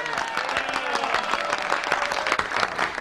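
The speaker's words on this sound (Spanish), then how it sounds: "un gran aplauso para Santiaguito Val" A studio audience at a 1989 television show applauds a guest's entrance, sustained crowd clapping with individual claps poking through and faint voices beneath.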